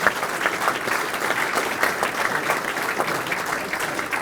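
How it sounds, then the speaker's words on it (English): An audience applauds at a rugby league club celebration dinner, a dense, unbroken round of clapping from a large room held at steady volume for several seconds. "Can we just have a round of applause for Gary Hetherington?"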